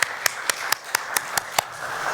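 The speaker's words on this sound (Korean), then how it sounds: "하나님께 영광의 박수 올려드리겠습니다." Applause from a congregation during a New Year's Eve church service: about eight sharp, evenly spaced claps in a steady rhythm, made together in time, fairly close and distinct over a quiet room.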